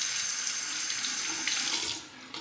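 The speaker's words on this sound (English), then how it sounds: "Let's rinse that." A single-edge safety razor is rinsed under a running tap, a steady close rush of water splashing for about two seconds before it tapers off.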